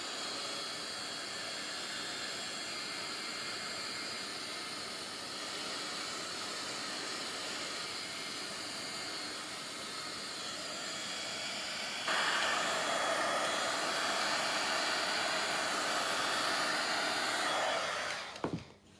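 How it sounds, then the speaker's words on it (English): Heat tool blowing alcohol ink across a card surface, a steady loud close whooshing hiss of hot air that runs continuously, gets stronger partway through, then cuts off at the end. "I can use my heat tool to blow it around."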